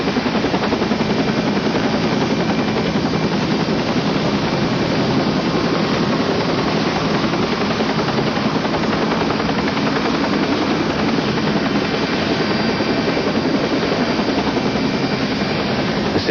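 Loud, continuous rescue helicopter rotor thrum with engine whine, steady and close throughout, no voices.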